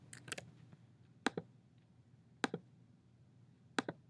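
An answer being typed on a computer keyboard: a few sparse, quiet key clicks in pairs with long pauses between them.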